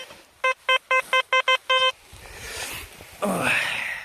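A metal detector signalling during treasure hunting on a winter outing near Odesa: a quick run of seven sharp electronic beeps, followed by rustling and handling noise.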